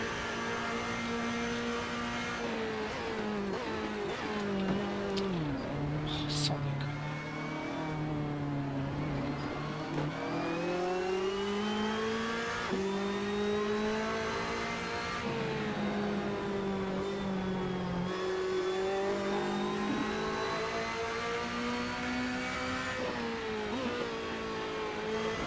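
Race car engine in the Assetto Corsa racing game drones continuously for about 25 seconds, its pitch rising through gears and dropping on downshifts, with a second car running close behind.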